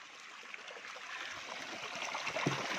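Water runs steadily from a pipe at a training camp, a continuous close-up trickling and splashing flow with no voices over it.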